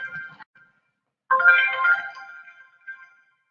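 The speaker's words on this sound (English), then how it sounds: "Sorry about that. That was my phone." A mobile phone ringtone chimes in short electronic bursts, a brief tone, a pause, then a louder melodic phrase and a final short blip, fairly close with no talk.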